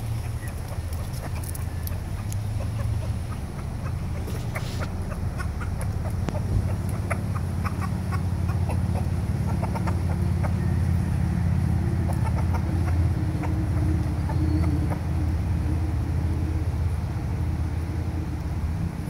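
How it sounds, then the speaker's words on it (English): Big hens on a chicken farm cluck and murmur steadily at a moderate distance over a constant low rumble, with a few sharper calls now and then and no talking. "Boy, that's a big hen."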